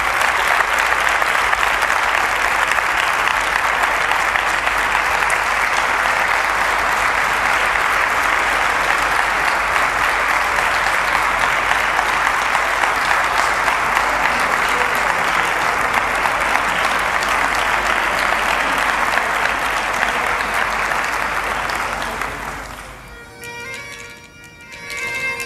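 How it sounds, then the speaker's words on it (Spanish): An audience applauds after a bagpipe band's Epiphany concert in Ourense, sustained, dense, loud clapping that holds steady for over twenty seconds before cutting off sharply. "Aplauso para todos."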